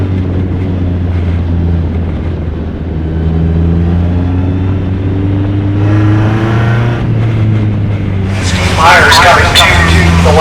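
Single-seater race cars at Mid-Ohio club racing, a steady loud engine drone with rising and falling pitch as cars pass, ending in a sharp high whine, under a commentator's talk.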